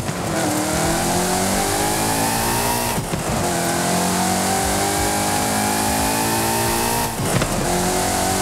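Alfa Romeo V engine in the racing game Forza Horizon 5, revving hard and steadily climbing in pitch, with two brief dips at gear changes before rising again, loud and continuous, with no talk.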